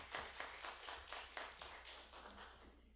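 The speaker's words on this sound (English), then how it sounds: "Deserves a hand clap." A small group claps at a board meeting in a school setting, a brief ragged patter of hands with quick regular hits that fade over about three seconds, faint and somewhat distant in a room.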